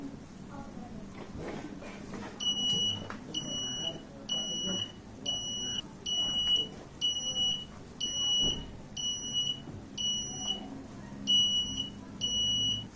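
A buzzer on a Raspberry Pi face mask detector sounds a repeated series of sharp, evenly spaced electronic beeps, roughly one a second, over a quiet room hum with a faint voice in the background.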